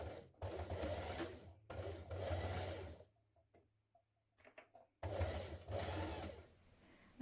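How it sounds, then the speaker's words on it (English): A sewing machine runs in three steady bursts, stitching strips of white fabric down over small tabs on a dress being enlarged, with a short quiet pause and faint handling clicks between runs. "we're just going to stitch that down over the top where we've popped those little tabs"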